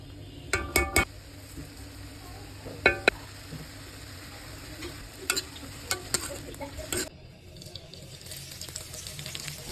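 Chopped garlic and shrimp frying, a low continuous sizzle beneath scattered sharp metallic clinks and scrapes of a utensil against the pan, close and fairly quiet, with faint running water in the background.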